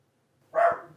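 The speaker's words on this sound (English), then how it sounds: "Fucking dog." A dog gives a single sharp bark that bursts up out of near silence, fairly close and loud, then trails off quickly, with no talking over it.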